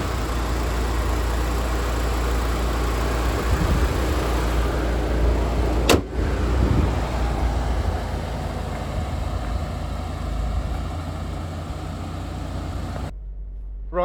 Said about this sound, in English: I'm now going to take this car for a quick test drive